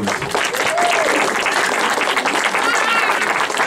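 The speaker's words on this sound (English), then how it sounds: "Can we give her a big round of applause?" An audience claps warmly for a speaker about to take the stage, a dense, steady burst of applause filling the room throughout.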